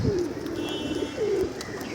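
Male pigeons released from a sky loft on a late-summer afternoon, with repeated low droning coos rising and falling close by over a steady outdoor hum, no voices.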